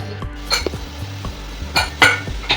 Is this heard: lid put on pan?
yes